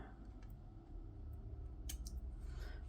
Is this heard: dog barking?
no